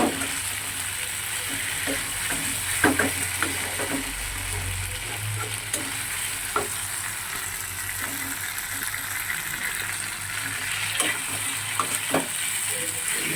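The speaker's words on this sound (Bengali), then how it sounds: "জিরে ধনে আদা পেস্ট করে দিয়ে দিয়েছি, একটা কাঁচা লঙ্কাও পেস্ট করে দিয়েছি। খুব ভালো করে কষিয়ে নেবো।" Cumin, coriander, ginger and green chilli paste sizzle steadily in a pan, a close, continuous frying hiss broken by occasional scraping stirs.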